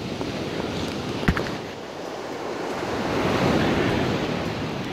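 Sea surf on a foggy, rainy day at a fishing spot rolls in as a steady broadband wash that swells toward the end, with wind buffeting the microphone and a single sharp knock early on.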